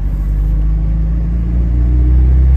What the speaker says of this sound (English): See how she comes off of idle in gear.